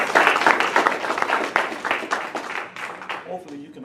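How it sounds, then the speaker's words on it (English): Audience at a Tea Party political meeting applauding a speaker, dense, fairly loud clapping that gradually thins and fades, with a voice starting to speak near the end. "If you would, please give Mr. Hank Sullivan a hand clap of praise."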